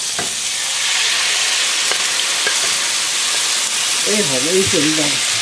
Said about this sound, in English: So we're going to put the tomatoes into the pan now.